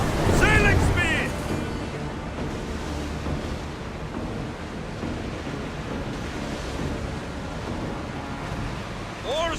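Ship in Assassin's Creed Odyssey ploughing through sea waves, a steady broad wash of surf and wind running throughout, with brief shouted voices at the start and end.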